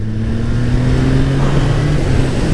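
A Triumph Trident 660 three-cylinder motorcycle engine with an aftermarket exhaust line, heard close and loud, its rough throbbing drone holding steady before climbing in pitch as it revs.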